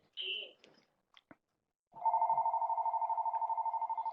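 Telephone ringing during an online webinar: after a few brief clicks and knocks, an electronic ringtone starts and pulses in a rapid, steady warble at close, moderate volume.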